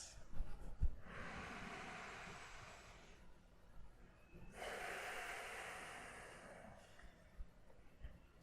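Slow, deep belly breaths in a pranayama session: two long, airy breaths, each a few seconds long with quieter gaps between, close and unaccompanied by talk.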